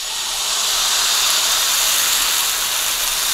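Sago uthappam batter sizzles loudly on a hot oiled dosa griddle, a steady close hiss that swells slightly and holds without pause.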